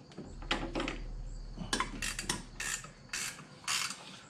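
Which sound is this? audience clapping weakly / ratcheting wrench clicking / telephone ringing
ratcheting wrench clicking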